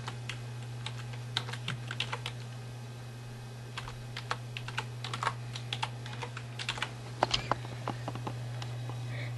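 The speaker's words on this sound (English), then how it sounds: "I'm going to type in addictinggames.com." Keys clatter on a computer keyboard as a web address is typed, a quiet run of irregular clicks in small bursts over a steady low hum, with no talking.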